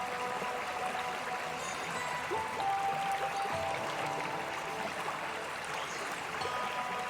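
Water in a small stream flows gently with a soft, continuous trickle and babble, quiet and even from start to finish with no voices.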